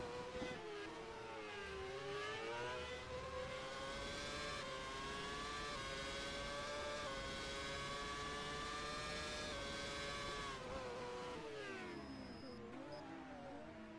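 Race cars in a racing video game whine past in a continuous high engine drone, pitch rising and dipping with gear changes, steady and fairly faint with no talk.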